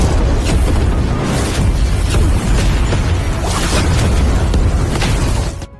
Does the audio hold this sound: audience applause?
no